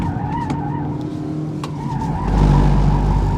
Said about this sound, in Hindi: ये आवाज़ ट्रैक्शन कंट्रोल इसका ऑन हुआ है, एक्टिव हुआ है।